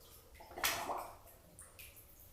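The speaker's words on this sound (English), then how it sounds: "You can just set that right into the water." A brass trumpet, stripped of its valves and slides, is set down into water in a bathtub, giving a brief splash and slosh followed by a few faint drips.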